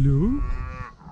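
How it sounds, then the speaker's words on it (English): A cow on an Indian farm gives a single loud, close moo with a rising, drawn-out tone lasting about a second, alone with no talking. "Yes, ladies and gentlemen, this is the cows."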